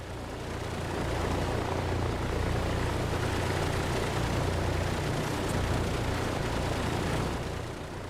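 A DC-3's left radial engine in Microsoft Flight Simulator 2024 turns over and settles into a loud, steady, droning rumble that holds for several seconds with no talking.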